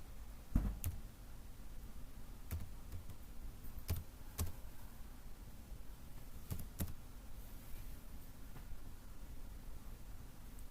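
A PAN number is typed on a computer keyboard: sparse, separate key clicks spread across a quiet stretch over a low background hiss, with no talking.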